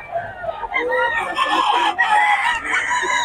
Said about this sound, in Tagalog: Manok ni Boss Gaga